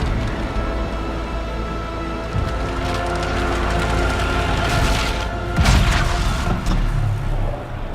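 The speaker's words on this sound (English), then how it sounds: "I really like the explosion noises in this game." Continuous rumbling noise in the video game Dragon Age: Inquisition builds into a deep booming explosion, with scattered crackles and rattles around it.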